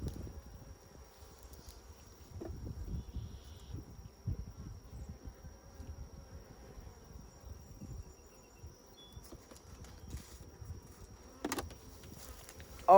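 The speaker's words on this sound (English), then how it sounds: "We want the nurse bees." Honeybees hum steadily in an open hive being worked for queen cell raising, a close, continuous low buzz with individual bees swelling past, alone without talk.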